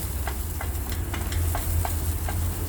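Cumin seeds and chopped onion frying in hot oil produce a steady sizzle punctuated by regular light clicks of a spoon stirring against the pan, with a low hum beneath and no speech.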